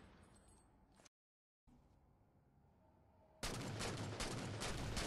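Halo 4 video game audio: a quiet stretch broken by a brief dropout, then a sudden loud, dense burst of BR and DMR rifle fire at mid-range that holds steady to the end.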